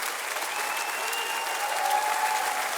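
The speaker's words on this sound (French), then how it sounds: "Applaudissons chaleureusement les finissantes et finissants du groupe" Warm applause from an audience at a college graduation ceremony for a graduating class, dense continuous clapping heard from within the hall, steady throughout.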